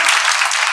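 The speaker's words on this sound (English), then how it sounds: "Let's give Ray the clap today." Studio audience applause for a guest on a live psychic comedy show, a short burst of dense, steady clapping with no talk over it.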